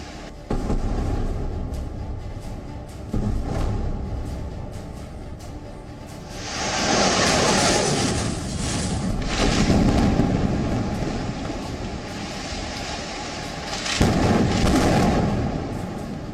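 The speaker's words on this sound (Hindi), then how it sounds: "गाजा में अल जजीरा के इसी दफ्तर को इजराइल की सेना ने बम से उड़ा दिया।" A bomb strike brings down the Al Jazeera office building in Gaza: a sharp blast followed by long, heavy rumbling roars of collapse, distant and booming, with more deep surges of noise later on.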